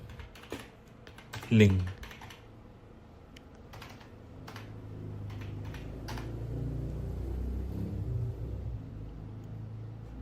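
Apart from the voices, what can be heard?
typing on a computer keyboard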